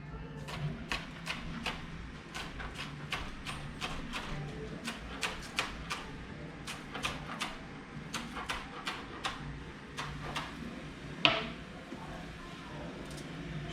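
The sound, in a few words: knife chopping green onion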